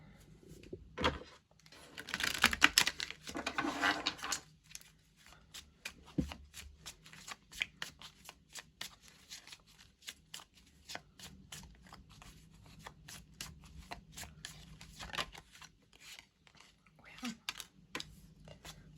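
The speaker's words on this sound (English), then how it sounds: "I'm gonna do one more shuffle." Tarot cards are shuffled by hand close by in a quiet room, a soft, steady run of rapid papery riffles and flicks, with a louder burst near the start and no talking.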